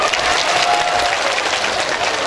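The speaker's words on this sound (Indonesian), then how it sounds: "Mana tepuk tangannya ini?" A lecture audience at an Islamic religious talk in Kundur, Karimun, Riau Islands claps together in steady, dense applause that stays even for a couple of seconds, with no voices over it.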